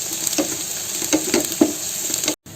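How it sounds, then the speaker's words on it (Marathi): Onion fries in an oil tempering of cumin, fennel and fenugreek with a close, steady sizzle and a few soft stirring scrapes, cut off abruptly near the end. "आता इथे आपला कांदा फ्राय होतोय आणि कांदा चांगला आपल्याला लाल करायचा आहे."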